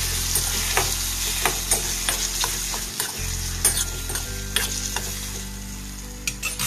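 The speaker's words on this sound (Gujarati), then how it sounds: "ટમેટા સુધર્યા હતા ને ધીમે રહીને નાખી દઈએ, પછી હવે હલાવી લઈએ" Chopped raw country tomatoes stirred into hot oil in a pan, giving a constant sizzle with regular scraping and clinking strokes of the spoon against the pan, close by, with no talking.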